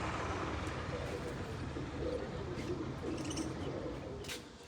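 Pigeons kept in a coop in winter with their chicks coo softly and intermittently over a steady low background hum, with a few faint chirps and no voices.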